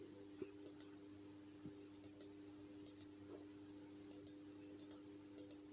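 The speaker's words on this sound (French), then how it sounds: "Là, je clique." Computer mouse buttons clicking while tab stops are set on a word-processor ruler, sharp light clicks, several single and paired, spread irregularly over a quiet background with no talk.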